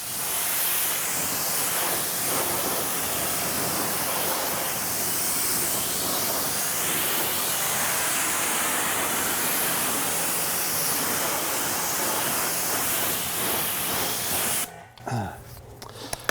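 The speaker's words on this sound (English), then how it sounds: "I'm gonna rinse the wheels off first" A pressure washer blasts grime off car wheels in a steady, loud, continuous hissing spray that runs nearly the whole time before cutting off near the end with a short knock.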